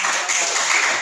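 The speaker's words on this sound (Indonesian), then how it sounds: "Kita kasih tepuk tangan untuk" Classroom applause for a student during a first-aid lesson, a brief dense patter of clapping hands filling the room without a break.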